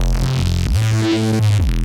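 A thick, buzzing Reese synth bass made in Phase Plant, with gain placed before the effects, with detuned, phasing harmonics plays two sustained low notes, loud and upfront.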